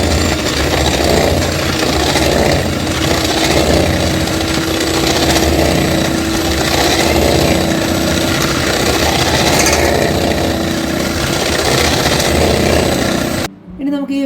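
An electric mixer beats mango cake batter with mango pulp mixed in, giving a loud, steady motorized whir that runs without a break for nearly the whole stretch before cutting off abruptly at the end.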